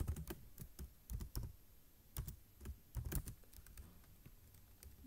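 Typing C++ code on a computer keyboard: fast, uneven bursts of close, crisp key clicks with short pauses, heard alone at low volume.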